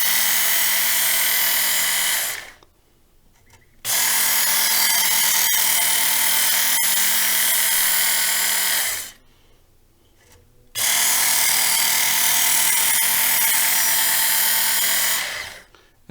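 A Work Sharp powered knife sharpener grinds along a knife edge in three loud, steady passes of high-pitched whirring abrasion, separated by brief quiet pauses, with no talking.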